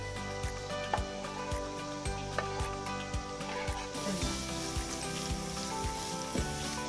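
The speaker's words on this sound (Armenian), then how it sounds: "Ավելացնում ենք սոխը տապակի մեջ" Onion frying in olive oil in a pan makes a continuous, fairly soft sizzle with background music playing over it.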